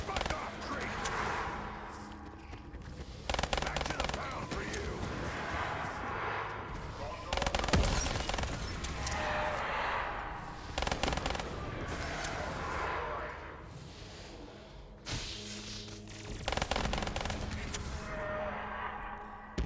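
Sustained bursts of rapid minigun fire from the Death Machine in Call of Duty Zombies come in repeated heavy volleys over about twenty seconds, with players talking over the gunfire.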